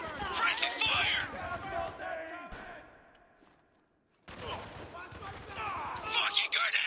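Friendly gunfire in Spec Ops: The Line, a rolling fusillade of rapid shots with shouted voices and battle noise, dropping away mid-clip before a fresh burst of fire resumes loud and close.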